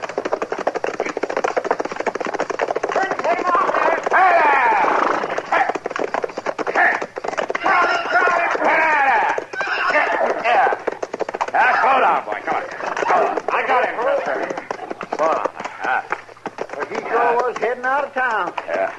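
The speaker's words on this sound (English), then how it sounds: "That's a runaway horse, Chester." A runaway horse in an old Western radio drama, rapid hoofbeats clattering down a town street under almost constant talking voices.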